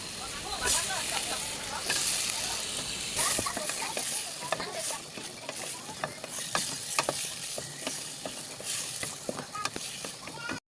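Eggplant and potato sizzle as they are stirred and fried in a pan for a curry, with crackling oil and scraping utensil clatter; a voice talks faintly at times.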